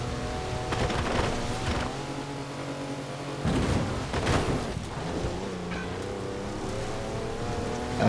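Mercedes 6x6 wagon with 340 horsepower driven hard in Forza Horizon 4, a loud steady engine drone with rising revs and bursts of tire and terrain noise.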